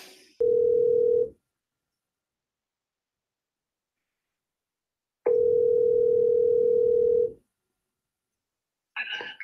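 Steady telephone dial tone heard over a speakerphone, sounding in two separate stretches, a short one and then a longer one of about two seconds, clear and loud, with quiet gaps and a brief rustle at the end.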